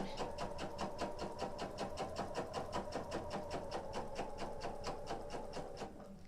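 Sewing machine running long basting stitches, a fast even mechanical clatter heard up close for several seconds, easing slightly near the end.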